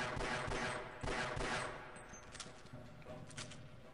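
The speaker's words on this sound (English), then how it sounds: "All I have to do is shoot him a couple of times." Bursts of gunfire ring out in Half-Life, with a few loud volleys early on followed by scattered, quieter shots and fading echoes.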